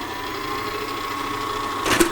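Farberware stand mixer running after flour is added, a steady close motor whir with a brief louder clatter near the end.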